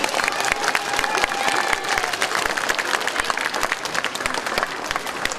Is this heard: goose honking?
no